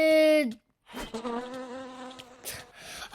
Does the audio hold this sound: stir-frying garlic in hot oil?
no